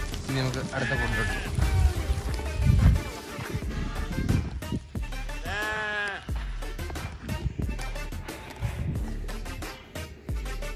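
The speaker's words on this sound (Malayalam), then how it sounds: "ആടുകളുടെ ഓട്ട മത്സരമാണ് ഇപ്പോൾ നടക്കുന്നത്." Arabian goats in a desert pen bleat after a running race, a few loud quavering calls rising over steady shuffling and thudding, with people talking throughout.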